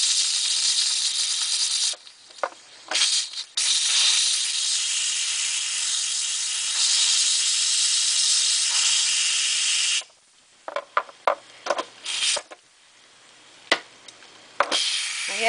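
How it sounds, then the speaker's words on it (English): A pressure cooker's quick release vents hot steam in a loud, sustained hiss that breaks off briefly, returns for several seconds, then gives way to short sputtering bursts. "you just don't want to get your hand near it because there's going to be hot steam coming out"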